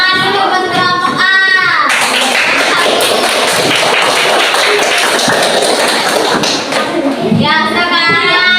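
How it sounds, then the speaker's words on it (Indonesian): Third-grade children in a class on ecosystems clap loudly and steadily for a group, a dense wash of hand claps framed by children's voices at the start and finish. "Tepuk tangan dulu buat kelompok A."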